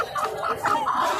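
Short bursts of clucking from an Aseel rooster at a poultry and bird market, two or three throaty calls close by over a second of market background.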